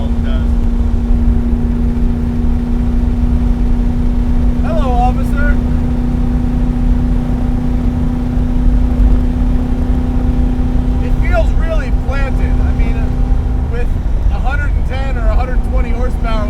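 A modified 1966 Alfa Romeo Giulia GT cruising, its engine a steady droning hum from inside the cabin, with people talking intermittently over it.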